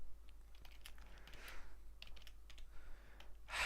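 Keys clatter in quick irregular bursts as code is typed on a computer keyboard, close and fairly quiet, with short pauses between runs of strokes and no voices.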